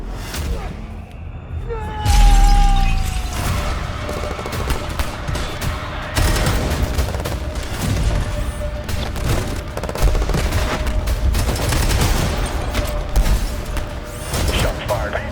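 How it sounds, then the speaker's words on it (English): Rapid gunfire bursts and booms from a video game trailer, loud and dense over a swelling score with a sustained tone, the shots rattling continuously across the whole stretch. "Shots fired."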